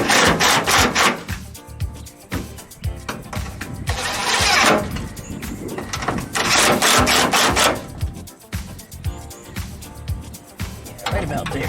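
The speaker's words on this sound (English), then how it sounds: "now I have to tighten the bolts down" Wrench tightening bolts on a 1956 VW Beetle decklid spring, loud close scraping and rasping strokes in bursts with brief pauses, with some talk mixed in.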